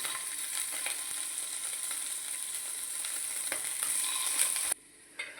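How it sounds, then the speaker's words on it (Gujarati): Pieces of paneer frying in hot oil give a steady, even sizzle with faint stirring clicks, then it drops away abruptly near the end. "જો આ તેલ ગરમ થયું આપણે પનીરના ટુકડા અંદર મૂકી દઈશું."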